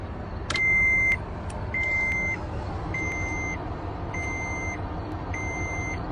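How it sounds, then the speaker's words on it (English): Truck reversing alarm playing from a video on a phone or screen: five evenly spaced electronic beeps, each about half a second long, repeating steadily over a low background hum. "That's not the truck out there. That's in the video."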